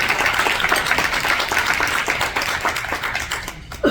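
An audience at a women's wealth-building event applauds an honoree, with loud, close, dense clapping that carries steadily before breaking off abruptly at the end.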